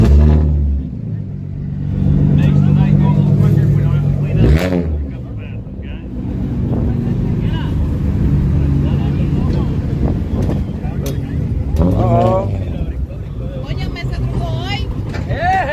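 Nissan GTR and Toyota Supra street cars racing at a small-tire drag event, loud engine rumble and revving swelling and fading at a distance, with voices talking over it.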